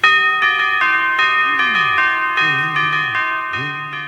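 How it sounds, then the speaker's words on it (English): Bright church bell tones struck with mallets one after another in a bouncy melodic pattern in a claymation Christmas special, each ring clear and sustained, with a few sliding comic sound effects between notes. "anthropomorphic church bells who hit themselves on the head with mallets to make their notes"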